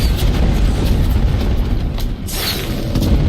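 Explosions in the Horizon Zero Dawn video game make loud, dense rumbling booms that roll continuously with barely a break, heavy and close throughout.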